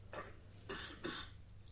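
Three harsh coughs in quick succession, close to the microphone, with a low hum underneath and no talking.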